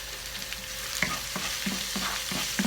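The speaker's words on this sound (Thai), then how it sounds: "ผัดกระเทียมพอหอมนะคะ" Garlic sizzling and stir-frying in a little oil in a hot wok, with a steady hiss and repeated scraping strokes of a spatula at a regular rhythm.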